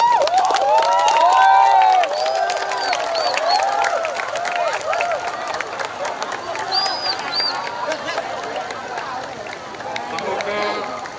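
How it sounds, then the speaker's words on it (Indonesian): Crowd applause and cheering at an outdoor Indonesian Independence Day ceremony in Dukuhseti, sustained clapping mixed with shouting and children's voices, loud and continuous throughout. "Tepuk tangan."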